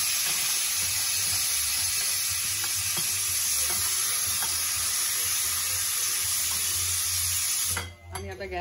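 Fenugreek leaves and besan fry together in a pan for methi zunka, giving a soft, steady sizzle with scattered scraping stirs up close that cut off abruptly near the end.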